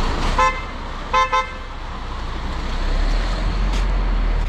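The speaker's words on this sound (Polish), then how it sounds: "Klakson jak w Passacie." A car horn sounds a short honk, then two quick honks, like a Volkswagen Passat horn, over steady traffic rumble outdoors on a farm.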